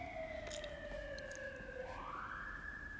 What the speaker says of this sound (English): there's a siren going by